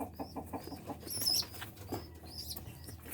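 Blue bar pigeons move close by with soft wing flaps and rustling, and faint high chirps come from the birds.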